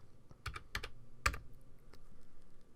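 Keys on a computer keyboard are tapped to enter a brush angle value in Adobe Photoshop Elements: a few sparse, close keystrokes in an uneven rhythm over a quiet room background.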